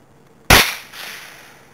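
A single sharp crack from a .22 rifle fired at a target, loud and close, followed by a short fading echo tail.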